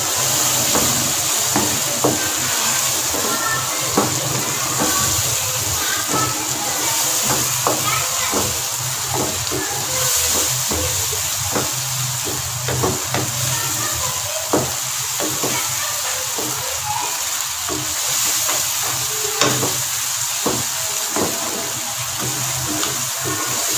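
Mashed brinjal bharta stirred and fried with spices in a pan, giving a steady close sizzle with scraping stir strokes throughout and a faint voice underneath.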